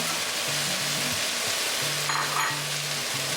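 Crispy pork stir-frying in a pan with kale gives off a loud, continuous sizzle and crackle, with steady frying hiss and occasional stirring scrapes throughout.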